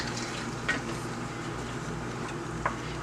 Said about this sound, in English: We're making scrambled eggs here, guys.